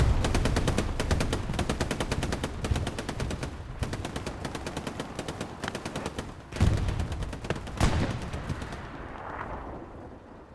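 Video game battle audio of an Allied bombing run: dense, rapid bursts of machine-gun fire and booming blasts roll on continuously, loud and close, then thin out and fade near the end.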